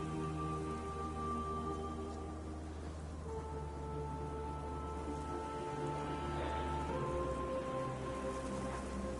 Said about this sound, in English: Terrible day for rain